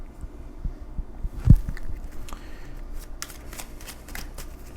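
Tarot cards being shuffled and drawn during a reading: soft papery riffles and quick card slaps, one sharp thump near the middle, all close and fairly quiet against a low hum, without speech.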